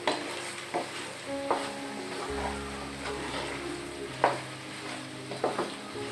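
Spiced beef kala bhuna fries in a pan, stirred with occasional scrapes and taps of a spoon over a low, steady sizzle, close up with no voices.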